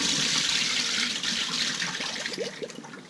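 Tap water runs steadily into a sink as fish gets a final rinse, a continuous close splashing wash that thins slightly toward the end.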